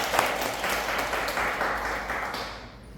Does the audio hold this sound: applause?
yes